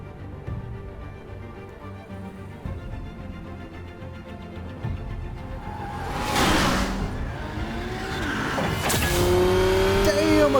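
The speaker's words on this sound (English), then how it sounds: "Damn, a car chase." A car chase in Batman: The Telltale Series, with a car engine building and revving and a couple of whooshing passes or skids. It grows louder toward the end, and voices speak over it.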